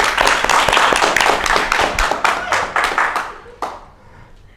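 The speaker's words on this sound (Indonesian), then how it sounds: "Pemirsa, mau tepuk tangan." Audience clapping after a podcast session on private universities, a burst of dense, close handclaps that thins into scattered claps and fades out, with a brief voice near the start.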